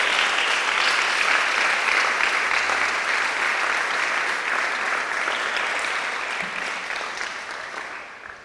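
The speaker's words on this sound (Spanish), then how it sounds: "Dele un aplauso al Rey esta noche" Loud, dense applause from a church congregation fills the room steadily for several seconds, then gradually fades as the clapping thins out toward the end.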